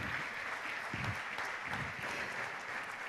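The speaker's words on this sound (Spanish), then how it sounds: "Dale un aplauso al Señor si lo crees" A church congregation applauds together, a steady wash of clapping that holds at an even level from start to finish with no voices above it.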